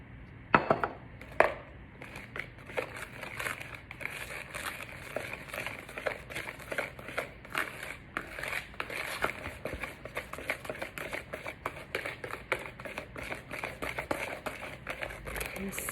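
Flour being folded into a cake mixture in a bowl, a soft, steady run of scraping and crinkly patting strokes that carries on close by with no pause.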